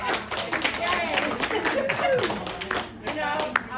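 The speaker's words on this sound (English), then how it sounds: "They're clapping for you." An audience claps in scattered, uneven bursts at moderate volume, mixed with background chatter and a few voices.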